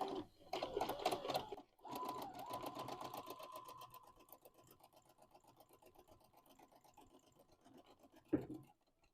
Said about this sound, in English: Fold it over and sew it again.